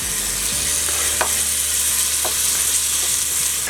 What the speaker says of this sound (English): we're going to add in 1 tablespoon of garlic